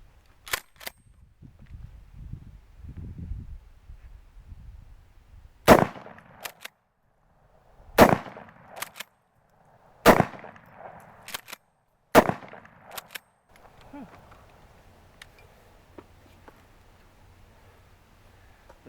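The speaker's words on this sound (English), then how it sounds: "Let's see what the shotgun does." 12 gauge shotgun fired outdoors at an Auxbeam light bar, several sharp loud blasts spaced a couple of seconds apart, with fainter cracks and quiet handling noise between shots.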